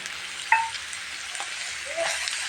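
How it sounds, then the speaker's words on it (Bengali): Shredded cabbage and potato fry with spices in a pan, giving a brief, even sizzle with a single sharp clink of a utensil early on. "এখন আমি সবজিটা ঢেলে দেবো পাতাকপিটা ঢেলে দেব সাথে একটা আলু দিয়েছি"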